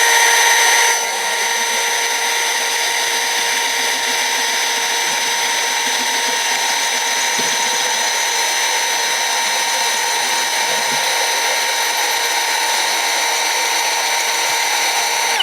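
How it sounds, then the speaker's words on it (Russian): A YUANSEN cordless drill whines steadily as it bores into glass at an angle, a continuous high-pitched motor drone with a faint grinding edge, loud and close for the whole stretch. "для того, чтобы начать сверлить стекло, заходим не прямо, а под углом и медленно-медленно выравниваем."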